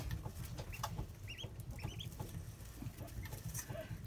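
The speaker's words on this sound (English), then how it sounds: "most of them are buff Orpington ducklings" Buff Orpington ducklings, with a few Ancona mixed in, peep in soft high chirps that rise in quick clusters over a steady low rustle and patter of the brood, close by, with no talking.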